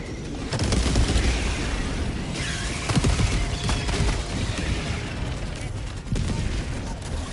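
Sustained volleys of gunfire and heavy booming artillery blasts from a battle in the video game Helldivers 2, dense and continuous, with occasional voices underneath.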